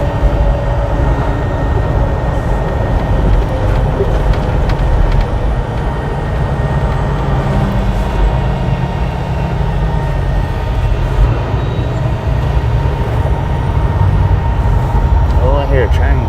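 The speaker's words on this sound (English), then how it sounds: "Oh, I hear a train." A train passing nearby heard from inside a truck cab, a steady loud rumble with rail clatter and a horn-like tone held throughout over constant road noise.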